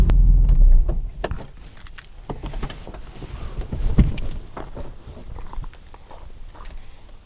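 A Porsche 993 with an RWB body pulls away on a road, opening with a loud low rumble that eases into a fluctuating engine drone and tire noise fading into the distance.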